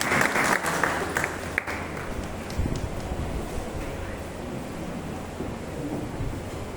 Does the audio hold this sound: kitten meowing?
no